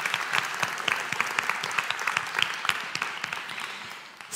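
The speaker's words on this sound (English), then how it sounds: "Big round of applause." Steady audience applause from a crowd, with dense, continuous clapping that holds for several seconds before tailing off slightly at the end.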